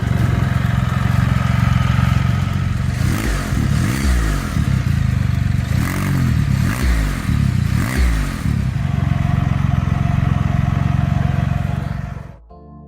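Polaris trike engine with a reflashed ECU, a deep, throaty idle that rises in several revving pulses before dropping back to a steady rumble, then cutting off abruptly near the end.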